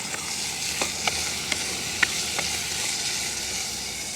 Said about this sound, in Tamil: அதையும் சேர்த்துக்கொள்வோம் அப்படியே பிரட்டி விடுவோம்